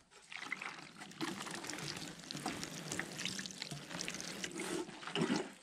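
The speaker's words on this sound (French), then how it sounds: "il faut surtout très bien arroser les mottes pour que ça reparte bien." Water pours steadily onto seedling root balls being watered before transplanting into small one-litre grow bags, a continuous close trickle and splash with slight swells in flow and no talking.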